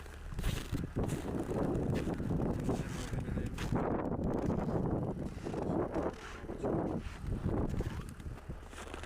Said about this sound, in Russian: Да, ветер.